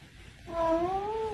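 A cat gives one long, drawn-out meow that rises and bends like an engine revving, clear and close with little else around it.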